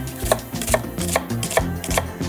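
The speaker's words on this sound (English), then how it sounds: "So brunoise, really, it's just little dices of vegetables." Knife dicing onion, celery, carrot and garlic into fine brunoise on a cutting board, a steady series of five or six crisp chops at an even rhythm, close and clear with no speech.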